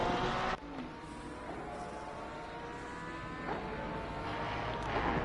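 GT3 race car on a flying qualifying lap at Zandvoort in Assetto Corsa Competizione: a loud, steady engine roar with rising and falling gear-change pitch sweeps, running continuously without talk.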